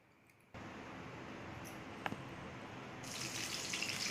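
Mustard seeds sizzle in hot oil in a kadhai for a Chhattisgarhi dubki kadhi. A soft, steady hiss starts suddenly after a brief pause and carries on with a few faint pops, rising slightly toward the end.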